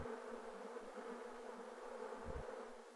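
Honeybees buzz in a close, continuous drone, their wingbeats holding a steady pitch that wavers slightly as individual bees move near and away, with no voices over it.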